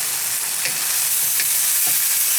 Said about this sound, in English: And we're going to stir that around a little bit.